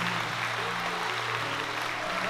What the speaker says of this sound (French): On nous applaudit le Seigneur.